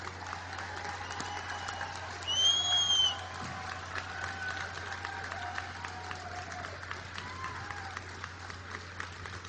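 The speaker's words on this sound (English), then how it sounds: "They deserve our applause." An outdoor crowd at a rally near Ground Zero in New York applauds steadily at a moderate distance, with a brief whistle and cheer rising above the clapping partway through.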